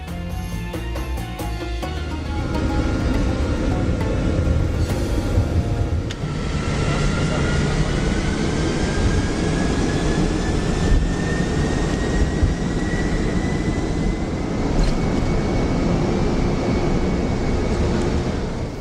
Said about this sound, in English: We departed among a lot of A380 and 777 out of Dubai around 3:50 in the morning.